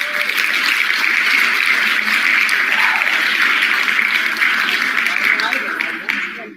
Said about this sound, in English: We'll give them a hand clap.